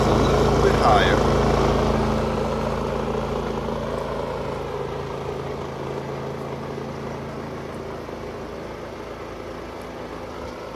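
A WEN 4800 dual fuel generator runs at a slightly high idle after starting, a steady engine hum and rumble that eases gradually over about ten seconds.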